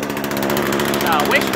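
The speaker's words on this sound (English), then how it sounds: "I got the chainsaw going" A chainsaw's small two-stroke engine runs steadily nearby with a buzzing, rattling idling drone, and a faint voice underneath.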